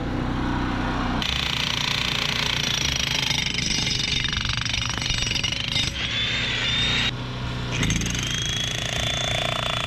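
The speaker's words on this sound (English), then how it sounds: "you hit right here with the jackhammer?" A jackhammer breaking concrete pounds continuously at close range, its loud rapid hammering broken by a couple of short pauses.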